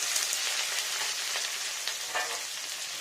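Onion and ginger sizzle steadily in hot mustard oil, a dense, continuous frying hiss close by with faint crackles and no voices.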